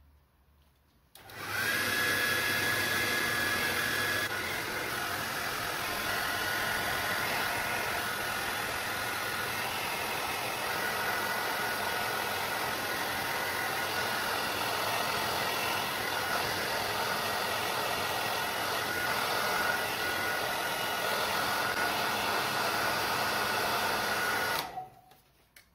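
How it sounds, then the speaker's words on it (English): A hairdryer blows steadily for over twenty seconds while drying paint on a homemade Star Wars warning sign, a loud, even whooshing whine from start to stop. "I'm going to use a hairdryer to dry it."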